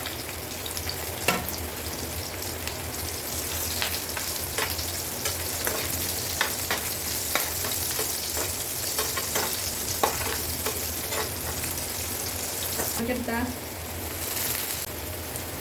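Chopped onions and cumin seeds fry in a pan for a banana flower dry fry, giving a steady broadband sizzle with scattered crackles and occasional stirring scrapes throughout.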